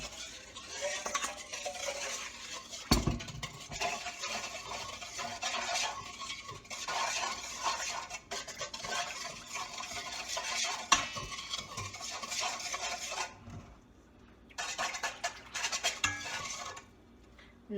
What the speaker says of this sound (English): mix very well.